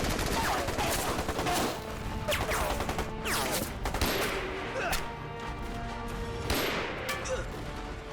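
Heavy gunfire from a Czech-type machine gun and pistols rattles through an anti-Japanese war film battle, dense bursts and sharp shots layered over one another at close range, with voices shouting amid the shooting.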